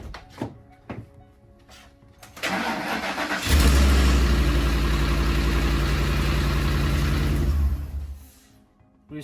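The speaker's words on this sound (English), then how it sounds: "We're gonna start the car for 10 seconds and then check the oil level" A car engine cranks and catches after an oil and filter change in a garage, then idles loudly and steadily for several seconds before shutting off, with a few faint clunks beforehand.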